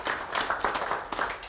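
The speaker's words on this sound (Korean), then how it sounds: "박수 한번 더 치고 해보죠." Audience applause at a Korean business lecture on change and innovation, a short burst of dense hand clapping heard fairly close and on its own.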